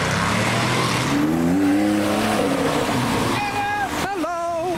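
A Porsche 997 pulling out of a wet car meet onto the road, its engine roaring loudly and fading as it drives off, with people talking nearby.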